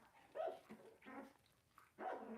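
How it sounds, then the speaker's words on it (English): Young puppies rescued from a suspected dogfighting situation bark and growl softly in their sleep, giving four short, muffled, dreamy yips spaced about half a second apart, quiet and close. "they're starting to like growl and bark in their sleep"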